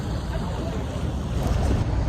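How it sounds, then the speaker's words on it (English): Balboa ferry loading walk-on passengers and cars at the harbor, heard as a steady broadband rumble of engine, water and wind, fairly close and continuous with no talk. "The Balboa ferry, people loading."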